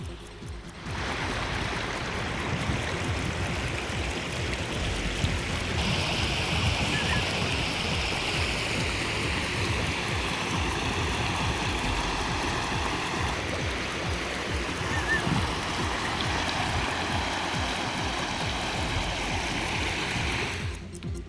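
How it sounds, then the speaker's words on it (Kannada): Flood water from heavy evening rain pours across a road in the Rattihalli area of Haveri district, a steady broad rushing wash heard alone at moderate level. "ರಸ್ತೆ ಮೇಲೆ ನೀರು ಹರಿತಾ ಇರುವ ಹಿನ್ನೆಲೆ ರಸ್ತೆ ದಾಟಲು ವಾಹನ ಸವಾರರು, ಸಾರ್ವಜನಿಕರು ಪರದಾಡಿದ್ದಾರೆ"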